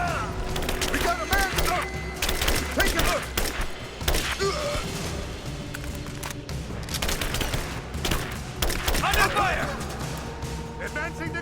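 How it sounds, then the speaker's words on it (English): Scattered gunshots and volleys crack through a Rise of the Tomb Raider firefight in the geothermal valley, with thuds and splintering impacts, while enemy voices shout over the shooting. "Open fire!"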